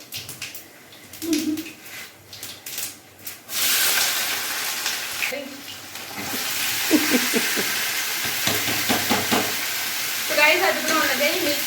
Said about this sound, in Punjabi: ਜੀਰਾ ਪਾਉਣ ਤੋਂ ਬਾਅਦ ਆਪਾਂ ਸਬਜ਼ੀ ਨੂੰ ਵਿੱਚ ਪਾ ਦਾਂਗੇ